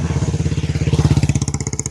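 A motorcycle engine putters in a steady rapid pulse, fairly close and loud, set against wind on a roadside with no talking.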